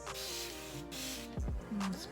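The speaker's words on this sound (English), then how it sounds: "I want to spray this side down too" Several short hissing sprays from a spray bottle onto a curly hair wig, close by, in quick bursts separated by brief pauses.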